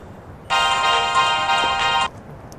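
A mobile phone rings with a steady electronic tone for about a second and a half, loud and close, then stops abruptly, with quiet room background before and after.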